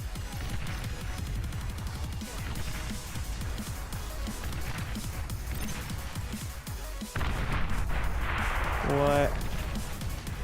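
Beyond All Reason real-time strategy battle with artillery fire, a steady barrage of distant thuds and crashes rumbling throughout, growing heavier and louder near the end.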